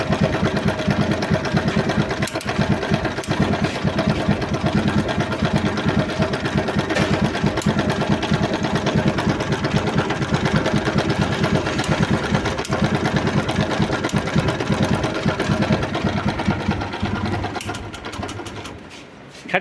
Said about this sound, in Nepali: आज म हजुरलाई यो बाइक स्टार्ट गरेर देखाउँछु टिकटिकको साउन्ड यसको।